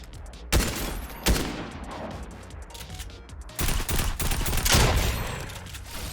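Shotgun blasts in a shooting video game, three loud sharp booms spaced over several seconds with a dense burst of rapid firing and impacts toward the end, over steady game background noise.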